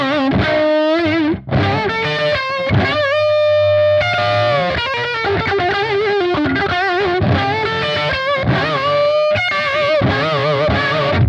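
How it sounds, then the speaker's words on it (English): Electric guitar played through a Spark amp with the distortion pedal switched off, giving a dry, crunchy tone; loud, sustained riffing and chords fill the passage with brief gaps, no talking. "And then you just turn the pedal off. Then you get your kind of dry, crunchy sound again."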